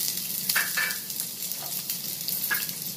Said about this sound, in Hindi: अब हम इसको इसमें डाल के फ्राई करेंगे।